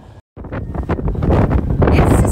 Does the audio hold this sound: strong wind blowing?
yes